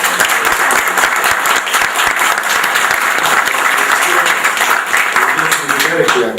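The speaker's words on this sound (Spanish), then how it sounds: "Un fuerte aplauso." Loud, dense applause from a crowd at a regional forum meeting in Rosario, steady and sustained across the whole stretch with scattered voices mixed in.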